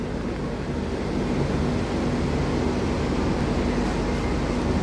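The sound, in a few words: sea waves at high tide on Puri beach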